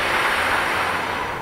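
A person blows a steady breath into a plastic fir tree, imitating wind rustling through leaves; a continuous close, fairly loud airy hiss that fades slightly at the end.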